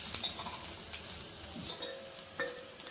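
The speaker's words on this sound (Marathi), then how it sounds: "तर खोबरं पण आपल्याला लालसर झालेलं आहे तर पूर्ण आपण सर्व साहित्य परत एकदा एकत्र करून घेऊन छान भाजून घ्यायचं" Grated coconut and green masala ingredients roast together in a pan, giving a soft, steady sizzle with occasional scraping stirs, close and fairly quiet.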